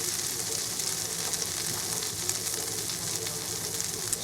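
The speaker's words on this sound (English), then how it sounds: "So now the onions that I chopped up before, we are going to saute them for about 3 to 5 minutes" Chopped onions sautéing in a pan for chicken tikka, giving a steady, even sizzle with a bright hiss that runs unbroken from start to finish and has no voices over it.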